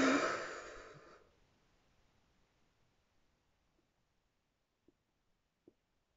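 A single deep exhale during a kundalini yoga breathing practice, a soft, breathy rush that fades out over about a second and leaves near silence with a couple of faint clicks.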